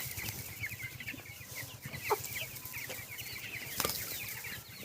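Fifteen-day-old broiler chickens on straw bedding cluck and chatter at a low level, a flock murmuring continuously with a couple of brief wing flaps.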